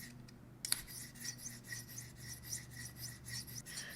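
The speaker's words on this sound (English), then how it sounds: "I'm going to start on the medium side and just work it back and forth the same way I did on the diamond stone" A knife blade worked back and forth on the medium side of a sharpening stone during freehand sharpening, giving a steady, rhythmic rasping scrape with regular strokes, close up and fairly quiet.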